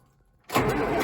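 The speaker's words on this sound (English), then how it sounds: "we're going to start this video off by starting this John Deere 4630" John Deere 4630 tractor cold-started after sitting unused for about five months, quiet at first, then the engine abruptly catches and roars into a loud, steady rumble.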